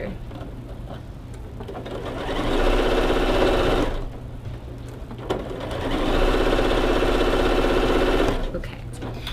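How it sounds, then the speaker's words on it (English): Sewing machine stitching quilt pieces for a holiday mini quilt, two steady runs of fast, even whirring and clatter separated by a short pause, close and clear with no talk. "Sew them together."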